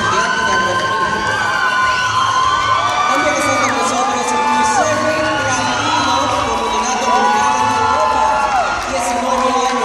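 Crowd at a Mister Dominican Republic swimsuit pageant cheers, whoops and shouts steadily for a contestant, with a loud, continuous roar and scattered clapping under a voice talking throughout.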